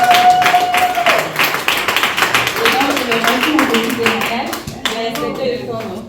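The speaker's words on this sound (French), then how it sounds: "On l'applaudit." An audience claps at a French training presentation, a burst of many hands that fades over several seconds while a voice speaks over it.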